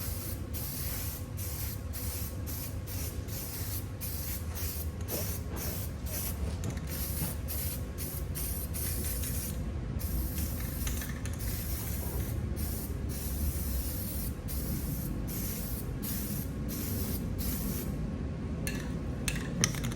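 Steady, continuous hiss of an aerosol spray paint can, loud and close, running unbroken with faint rattly bursts layered on top.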